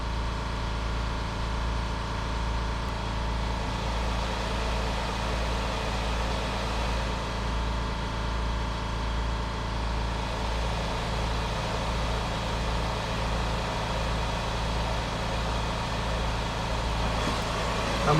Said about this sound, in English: So now I'm going to turn on my vacuum.